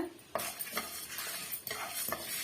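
A metal spoon stirs and scrapes curry leaves roasting in a pan for tomato rasam, giving repeated clinks and scrapes in an irregular rhythm over a faint background.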